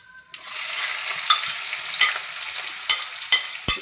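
Onions sizzle and fry in a pan for chicken kabab while a utensil stirs them, with steady close frying noise broken by several sharp scraping clacks against the pan.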